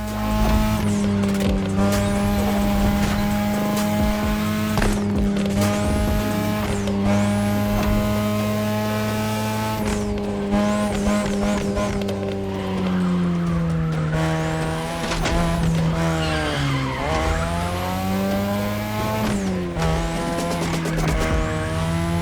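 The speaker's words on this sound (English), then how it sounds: "Tonight your ride is a 3rd Gen 2002 Mazda RX-7. Lightweight, compact, a sick rotary engine, and one hell of a look." A third-generation 2002 Mazda RX-7 with a rotary engine races in the video game The Crew, its high-pitched rotary wail climbing and dropping through gear changes, with repeated tire squeals and no talk over it.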